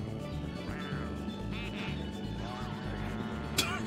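Bird voice effect in Mario Kart: Double Dash, a drawn-out honking, duck-like quack with wavering pitch over steady game music and engine hum, ending in a sharp crash.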